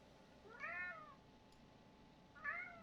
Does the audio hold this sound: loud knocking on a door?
no